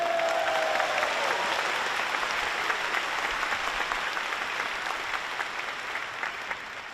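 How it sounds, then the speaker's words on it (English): A large crowd at a Computex keynote in Taiwan breaks into sustained applause that slowly tapers off, broad and even, with a faint tone fading early on. "Everybody give a round of applause to my mom and dad."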